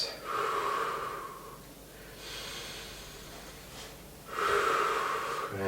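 Deep, slow breathing during a knee release stretching exercise, with long audible inhales and exhales repeating in a calm rhythm, close and alone.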